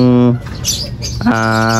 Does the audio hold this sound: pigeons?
yes